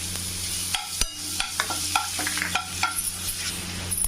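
Crushed garlic sizzles in hot oil with cumin and a bay leaf for a ridge gourd gravy, a dense close hiss punctuated by sharp utensil knocks and stirring scrapes.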